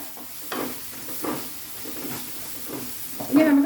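Sliced onions fry in a pan for a raw mango dish, with a steady hiss and sizzle swelling in a few bursts as they are stirred, ending with a louder flare.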